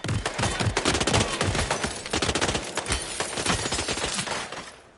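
Rapid bursts of gunfire in the VR game Hitman 3, loud and near, with dense repeated shots in quick volleys that thin out and fade toward the end.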